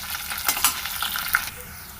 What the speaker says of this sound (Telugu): ఒక నిమిషం వేపనిద్దాం. ఒక నిమిషం వేగనిద్దామండి.